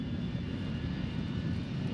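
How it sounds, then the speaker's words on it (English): A fixed-wing airplane takes off near San Bernardino International Airport, its engine roar a loud, steady, continuous rumble with no talk over it. "I can see the planes taking off and landing from my parents' house"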